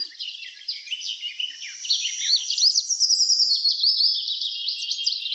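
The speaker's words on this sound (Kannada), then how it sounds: "ಇದು ಕೂಡ ಹಮ್ಮಿಂಗ್ ಬರ್ಡೇನೆ." A small, brightly colored hummingbird chirps in a rapid run of thin, high twittering notes, near and steady throughout, with no other sound behind it.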